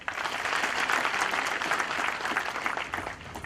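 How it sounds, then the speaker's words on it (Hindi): Audience applause at an on-site KUSHAL skills training programme in Baner, Pune, a dense, steady wash of many hands clapping loudly throughout, with no voices over it. "आप उनके लिए एक तो जोरदार तालियां बजाइए"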